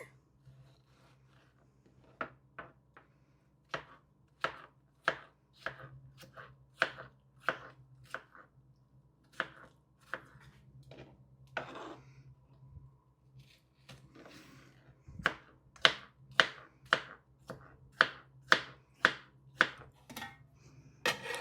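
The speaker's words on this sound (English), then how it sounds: "I'm just going to cut these into chunks" Pasta salad ingredients are cut into chunks with a knife on a cutting board, giving a steady series of crisp, close chopping knocks in irregular runs, with short pauses between them.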